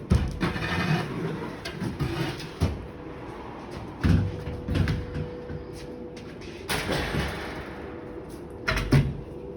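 A plywood panel slides along a door's rollers, producing a series of wooden knocks, bumps and scrapes at irregular intervals, close by, with rumbling handling noise between the louder thuds.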